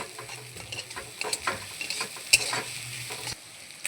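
Onions and green chillies fry in oil in a pan while being stirred, a steady close sizzle broken by a few sharp scraping knocks of the spoon, with no talking.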